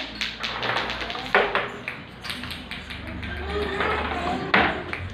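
Small beads dropped into a cup, a series of sharp close taps and light clicks at irregular intervals, with voices talking between them.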